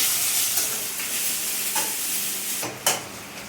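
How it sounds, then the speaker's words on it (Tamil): Tomatoes and onions fry together in a pan for spicy chutney, giving a continuous close hiss, with a brief scrape or clink of the spoon near the end. "தக்காளி நல்லா வதக்கியாச்சு"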